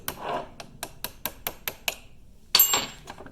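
A hammer taps a screwdriver against a metal C-clip in a steady series of sharp clicks, about ten light strikes, followed by a louder clank, on a Polaris RZR prop shaft.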